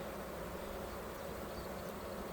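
Honey bees in a queenless hive give a faint, continuous low buzzing drone, an even hum with no distinct breaks and no voices.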